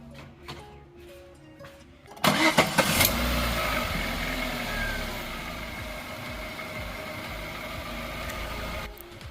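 A car engine cranks and fires after gas-system tuning, starting with a sharp burst and then settling into a steady, close idle that runs for several seconds.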